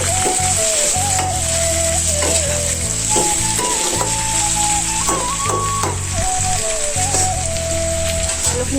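Duck meat and potatoes fry in a pan with a steady, dense, close sizzle and crackle that continues without a break.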